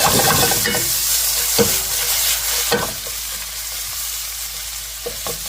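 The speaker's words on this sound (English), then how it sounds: "Give them a quick stir." Beef stir-fry with oyster sauce, ginger and garlic sizzles loudly in a hot pan while being stirred, with scraping strokes and clattering taps of a utensil breaking through the steady hiss.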